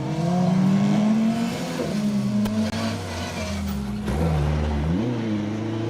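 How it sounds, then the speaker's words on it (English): A Vauxhall Corsa rally car pushed hard on a stage of the Rali Menai Stages, its engine revving loudly and rising and falling through gear changes as it drives past at speed. "Chris Daniels and Andrew Millington really pushing this Corsa"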